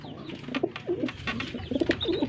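A pigeon coos several times in soft, throaty bursts close by, with faint outdoor background noise between calls.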